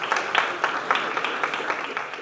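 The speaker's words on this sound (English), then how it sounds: "let's give them another hearty clap" An audience at a company's full-year results presentation claps steadily for about two seconds, a dense, even patter of many hands with no voices.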